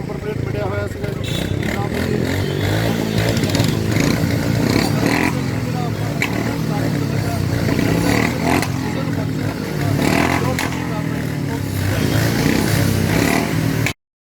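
Motorcycles idle and rumble loudly at a traffic police checkpoint in Patiala, engines churning continuously under raised voices of people talking nearby.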